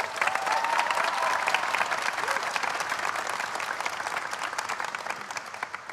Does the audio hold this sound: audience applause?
yes